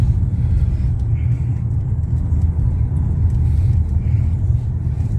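A car drives along at about 40 km/h, heard from inside as a steady low road rumble and engine drone. No one talks over it.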